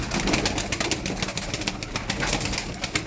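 Taneli Çakmaklı pigeons coo softly inside a coop, soft murmuring calls overlapping against a busy, close background of rustling and movement.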